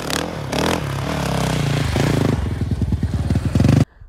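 Snow bike engine riding through deep mountain powder, a loud close motorcycle-style roar that rises and falls with throttle, turning into a fast choppy pulsing near the end before cutting off abruptly.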